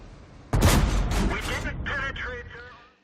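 KV-5 tank gun firing in World of Tanks, one sudden heavy boom that rolls off into a long rumbling decay, loud and close, with speech over the tail.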